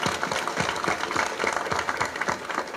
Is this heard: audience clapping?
yes